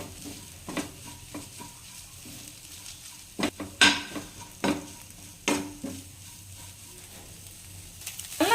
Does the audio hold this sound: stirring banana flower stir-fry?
yes